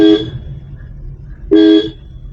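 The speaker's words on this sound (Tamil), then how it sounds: "ஒரு ஹாரன் கொடுத்துருங்க." A car horn honks twice, a short blast then a longer one about a second and a half later, loud and close.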